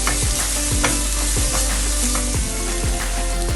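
Ginger garlic paste is stirred in while cooking, a steady sizzle overlaid by regular scraping strokes about three times a second, close and fairly loud.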